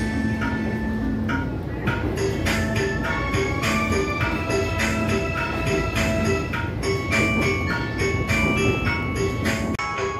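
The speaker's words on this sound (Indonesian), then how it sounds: "Lagu yang selalu saya rindukan ketika naik kereta dan akan tiba di Cirebon" A cheerful melody plays over the public address system aboard the Argo Cirebon train as it approaches Cirebon station, with steady tonal music over a constant rumble of the moving train, loud and continuous throughout.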